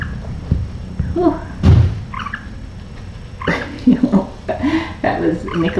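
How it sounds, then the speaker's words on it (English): A soft thud lands as a cat jumps down from a cat tree onto the floor, with a few other light knocks and bumps around it. "That was Nicholas dismounting from the cat tree."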